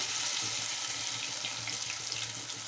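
Dough pieces (pera) are frying in hot oil, giving a dense, steady, close hiss and bubbling sizzle that stays at an even level throughout, with no voices.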